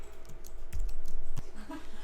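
Keys and a mouse button clicked on a computer keyboard setup while working in Adobe software, a few sparse close taps and clicks over a low room hum.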